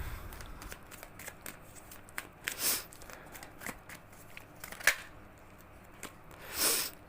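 Tarot cards shuffled and handled during a reading, giving soft papery riffles and slides in brief bursts, with louder flurries near the middle and at the end, no voices.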